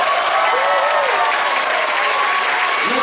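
Loud, dense applause from a concert audience after a school orchestra performance, continuous and even throughout.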